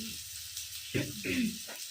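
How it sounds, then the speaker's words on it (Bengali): Spice masala with cumin powder frying in oil for a prawn malai curry, a soft sizzle with a few brief bursts of bubbling and stirring, faint and close. "দেখুন বন্ধুরা মশলাটা তেল ছাড়তে শুরু করে দিয়েছে"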